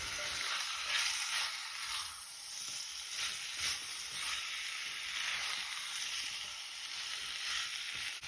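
Ivy gourd and potatoes are stirred in a sizzling pan, a steady frying hiss broken by repeated soft scraping strokes of the spoon at a quiet, close level.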